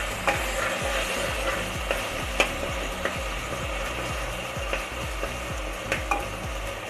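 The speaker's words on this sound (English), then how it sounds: "Let this saute for a minute so that all the raw aroma is gone." Ginger garlic paste sautéing in ghee and oil gives a steady close sizzle and crackle, with a regular scraping stir of a spatula against the pan repeating about every half second.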